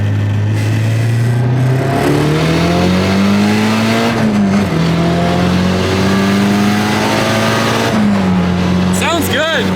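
A Mitsubishi Evo 5 running 18 psi of boost accelerates hard on a highway, its engine rising steadily in pitch through the gears with brief dips at shifts, loud and close from inside the car, with people talking over it.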